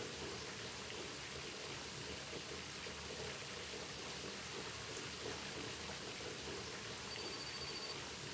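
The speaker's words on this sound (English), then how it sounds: "Oh, come on, I'm in the shower." A shower runs in the video game My Summer Car, giving a steady, faint, even hiss of falling water that continues unbroken throughout.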